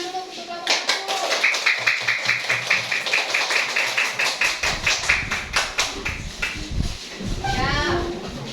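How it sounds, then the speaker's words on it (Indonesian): A classroom of children claps for a group, a fast rhythmic round of applause that stays loud throughout, with voices calling out over it and a few high shouts near the end. "Beri tepuk tangan dulu untuk kelompok 1."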